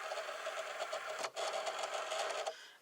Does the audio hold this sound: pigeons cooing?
no